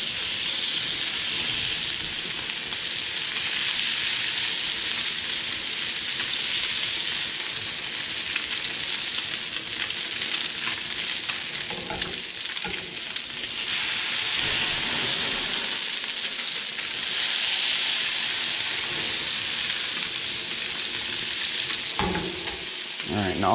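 Flounder frying in butter with lemons in a pan over high heat, a steady loud sizzle with stirring and spatter running continuously and alone throughout.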